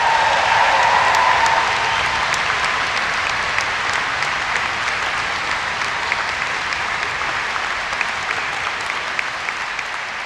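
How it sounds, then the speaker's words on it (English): A graduation ceremony audience in a large hall cheers and applauds, a loud, dense wash of clapping and crowd noise that starts with a whistle and slowly eases over ten seconds. "I think that deserves another cheer on 3"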